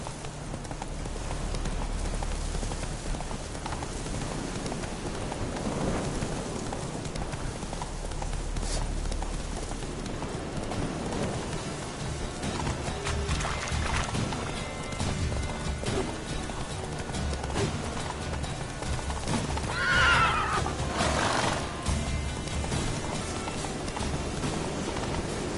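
Horse named Roach galloping in a video game, steady clip-clop hoofbeats running throughout at moderate volume, with a brief higher neigh-like burst near the end.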